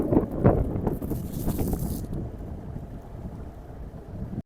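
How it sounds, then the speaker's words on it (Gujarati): A motor boat carries passengers across the water at Fudam Bird Sanctuary in Diu, its steady engine rumble and rushing water mixed with wind buffeting the microphone, continuous and close throughout. "બોટ જાણે હાલે છે, આપણે એવું લાગે કે આપણે પોતે પાણી ઉપર કેમ દોડતા જતા હોય"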